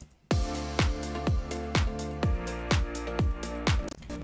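Electronic music track with a punchy kick drum thumping about twice a second under a sustained atmospheric synth pad that fills out the background, steady and loud with no voices.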